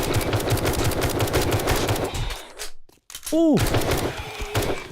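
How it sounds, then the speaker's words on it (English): Rapid automatic gunfire at a zombie in the survival game 7 Days to Die (Darkness Falls mod), loud bursts of shots that break off briefly mid-clip, then resume, with a man's short exclamation. "I might have to shoot this one. Oh, he's a tough one. I have to shoot him."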